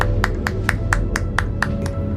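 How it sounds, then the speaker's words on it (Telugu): Sharp hand claps, about nine of them in an even, steady rhythm, sounding from an upper floor in a narrated story, set over a low, droning background hum. "చప్పట్ల శబ్దం వినిపించింది"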